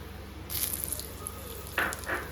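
Quiet crackling sizzle of urad dal and chana dal frying in hot oil, with a few light pops and stirring scrapes.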